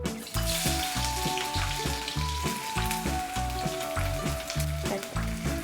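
Onion sizzles and crackles as it fries in a pan with grated coconut for a Malvani chicken curry, a steady dense sizzle heard up close with a repeating rhythmic pulse and nobody speaking.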